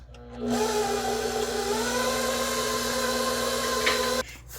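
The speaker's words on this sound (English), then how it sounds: "I'm going to mix that in second gear and tie combine" Stand mixer beating white coconut pound cake batter on second speed, a steady electric whir with a tonal motor hum starting abruptly and running evenly for about four seconds before cutting off.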